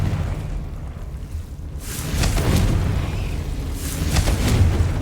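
A Confringo fire spell explodes in the Hogwarts Legacy video game, giving a low rumbling boom that swells and lingers over a steady bed of game ambience.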